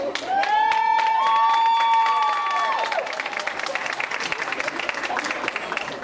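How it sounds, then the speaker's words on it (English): School audience applauding their principal at an assembly: sustained clapping from a large group, with cheering and excited voices over it early on, settling into steady, fairly close applause. "we're going to give our principal, Dr. Mia Coleman, a round of applause."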